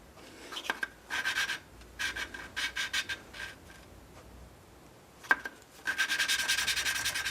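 Bursts of close, rhythmic rubbing and scraping come from cleaning out a glass cylinder head on a Briggs engine, broken by short pauses and a single sharp knock, with no voices.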